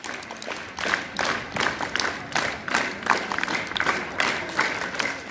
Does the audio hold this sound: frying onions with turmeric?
no